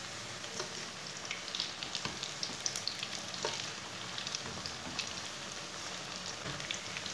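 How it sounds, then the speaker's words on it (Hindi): Onion pakoras deep fry in oil over medium heat with a soft, steady bubbling sizzle and scattered small pops and crackles, fairly quiet and with no talk. "अब इसे फ्राई कर लेंगे। पकौड़ों को 2 मिनट तक पकने देंगे"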